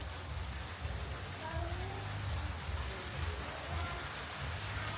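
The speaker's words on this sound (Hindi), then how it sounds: "और लो बारिश फिर से आ गई।" Steady rain falling outdoors during a day without electricity, a dense continuous hiss of drops at even loudness with a low rumble beneath, no voices standing out.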